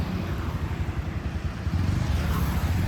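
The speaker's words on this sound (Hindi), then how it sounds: "तो भाई साहब विशाल पहली बार चलाएगा अपनी बाइक को" A Bajaj Pulsar NS160 motorcycle being ridden for the first time after delivery, its engine putting out a loud, close, steady low throbbing drone with no talking.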